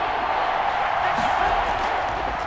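A stadium crowd roaring in Madden NFL 21 during a New England Patriots vs. Seattle Seahawks game, building toward a big third down: a continuous, loud wash of cheering with no break across the short stretch.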